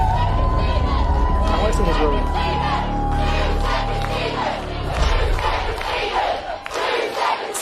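A Big Brother UK live crowd roars and cheers loudly, with whistles, shouts and a rising wall of voices; a tone sounds early on and people talk over the noise.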